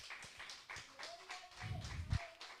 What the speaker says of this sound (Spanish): Démosle un fuerte aplauso al Señor, mis hermanos